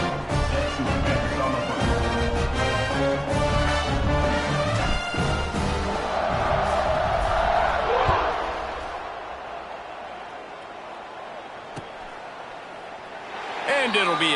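A college football video game stadium crowd roars in a dense, sustained wash of cheering and music before a kickoff, fading somewhat near the end, while a commentator talks over it.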